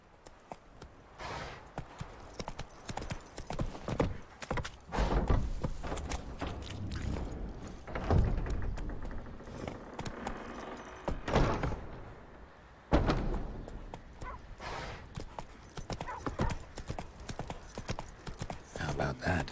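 Roach, Geralt's horse in The Witcher 3, gallops with rapid, rhythmic clip-clop hoofbeats at moderate volume, the pace shifting through the run while a character speaks at times.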